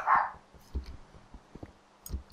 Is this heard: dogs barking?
yes